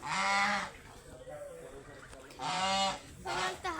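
A goose honks loudly three times nearby at a bird park, harsh nasal calls separated by short pauses over quiet background noise.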